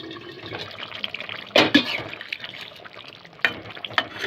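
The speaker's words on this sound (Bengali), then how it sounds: "এবার একটু ফুটবো মাছগুলো দিয়ে।" Fish and potato curry (jhol) simmering in a pot, a soft steady bubbling hiss with a few brief stirring or clattering bursts, no voices.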